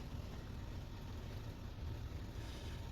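A car engine, just started, idles with a low, even hum that stays steady and fairly quiet throughout, with no voices.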